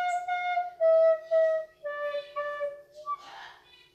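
A recorder plays the second line of Twinkle Twinkle Little Star poorly, several wavering sustained notes with uneven breathy attacks and a squeaky, airy overblown note near the end, heard alone and close.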